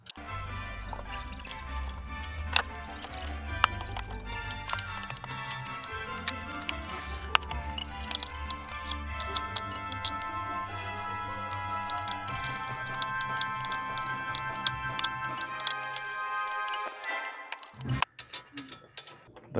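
On a Pontiac G6 wheel hub, a hand ratchet snugs down the bolts with rapid, close, sharp ticking clicks that run nearly continuously. Faint metallic clinks sit among them, and the clicking stops near the end.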